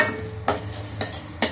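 Toor dal, coriander seeds and tamarind stirred as they dry-fry in a pan over a low flame, with soft scraping strokes and a few louder utensil scrapes over a steady low hiss, with no talking.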